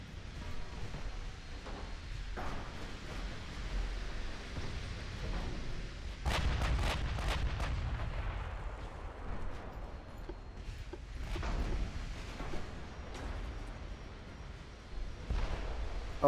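The 11-inch guns of naval warships fire in the game Ultimate Admiral Dreadnoughts, giving several deep booms with sharp cracks scattered over a low rumbling battle backdrop, at moderate volume.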